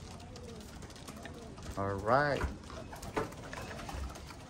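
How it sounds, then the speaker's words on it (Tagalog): Pigeons coo in a short, close burst near the middle, heard while someone speaks briefly in a loft-training setting. "So yun mga kalapatids."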